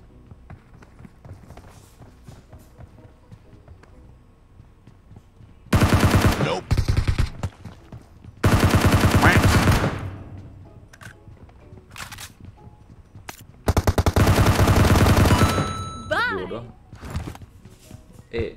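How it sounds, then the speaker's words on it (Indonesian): Several loud bursts of automatic gunfire erupt in the PUBG Mobile video game, each lasting about a second, interspersed with quieter stretches where players talk. "Oh, ada yang nembakin dari jauh."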